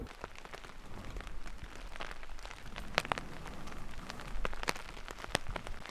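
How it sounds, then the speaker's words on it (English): Heavy rain falls on a mountain campsite near Nagano, Japan, a steady dense patter with sharp individual drops striking a nearby surface throughout. "It's raining cats and dogs."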